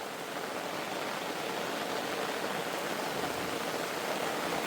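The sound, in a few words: rain falling in a village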